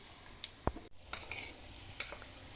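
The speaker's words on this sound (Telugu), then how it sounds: "అన్నీ సమంగా వేపుకుంటూ ఉండాలన్నమాట. మీల్ మేకర్ కూడా వేస్తున్నాను ఇప్పుడు." Meal maker chunks frying in a pan, a faint brief sizzle with a few close clinks and scrapes of stirring.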